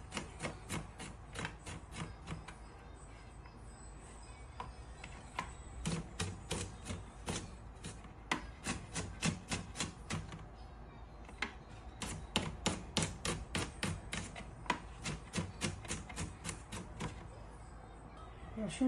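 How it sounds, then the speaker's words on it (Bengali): A knife chops garlic finely on a cutting board, producing rapid runs of crisp, evenly spaced taps in bursts with brief pauses between them, close and clear. "রসুন কুচি করা হয়ে গেছে"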